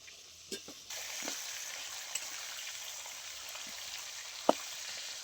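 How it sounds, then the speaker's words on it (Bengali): Pieces of broken katla fish head fry in a pan with a steady, fairly quiet sizzle, joined by a few brief clinks and knocks of a spatula near the start and one sharp tap toward the end. "মাছের মাথাটা আমি হালকা ভেঙে ভেজে নিয়েছি,"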